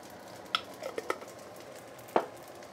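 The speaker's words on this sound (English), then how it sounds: "Give it a few stir." A spoon or spatula stirs crab fried rice in a pan, giving a few soft scraping strokes with sharp clinks against the metal over a faint background sizzle. No one speaks.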